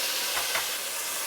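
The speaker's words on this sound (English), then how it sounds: "Now I'm gonna scoop this out and immediately start the bacon. Bacon goes in." Bacon frying in a hot pot gives off a loud, constant hiss like rushing steam, close and unbroken, with a couple of slightly sharper spits.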